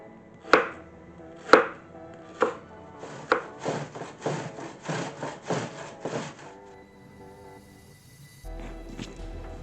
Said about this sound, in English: I'm going to grate some and I'm going to slice some very thin.